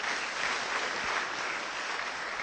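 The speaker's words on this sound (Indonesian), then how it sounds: "Oh, beri tepuk tangan untuk Tuhan" Applause from a church congregation, a dense, steady wash of clapping that holds at an even level throughout with no voices.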